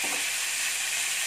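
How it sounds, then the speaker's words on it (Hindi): Cashew pieces fry in a pan mix for kadai paneer gravy, giving a brief, even, close hissing sizzle with no voices. "दस बारह काजू के टुकड़े हैं, इसको भी मिक्स में डाल देते हैं और साथ में फ्राई करते हैं।"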